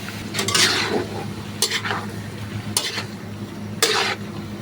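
Putok batok adobo dry-toasted in a pan without oil, a spatula scraping and stirring in several distinct strokes over a low, steady hiss, with no talking.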